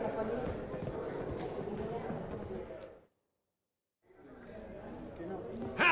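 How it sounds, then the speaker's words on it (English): Horse hooves clip-clop in The Witcher 3: Hearts of Stone, a steady walking rhythm under ambient chatter, dropping out for a second before resuming. "you'd think the room was full of horses."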